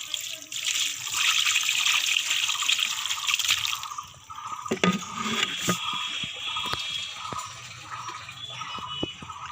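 Water with a freshly caught fish poured out of a container, a loud rushing gush for several seconds that thins into trickles, drips and small splashes close by.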